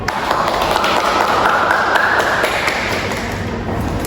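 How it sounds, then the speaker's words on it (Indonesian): Audience applause for debate participants, a dense, steady patter of many hands clapping at close range, holding loud for several seconds. "kita berikan aplaus dulu"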